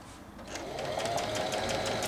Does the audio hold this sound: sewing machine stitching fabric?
yes